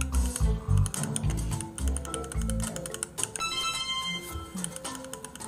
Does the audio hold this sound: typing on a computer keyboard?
yes